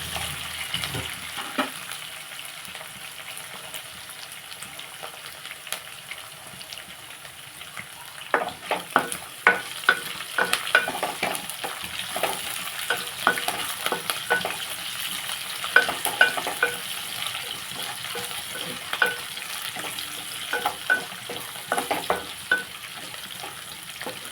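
Tempering spices sizzle and fry steadily in a pan for a rice semiya breakfast dish, with the crackle rising midway and repeated light scraping and clinking of stirring on top.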